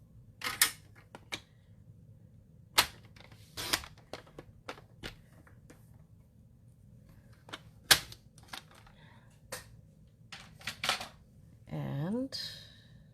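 Sharp clicks and snips of scissors trimming paper for a card come in irregular bursts, mostly quiet and close, with a brief rustle near the end.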